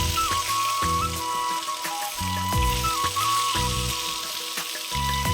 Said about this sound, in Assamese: তেলখিনি গৰম হোৱাৰ পাছত মই এতিয়া ইয়াত দি দিছোঁ মাছখিনি অলপ ফ্ৰাই কৰি ল'ম।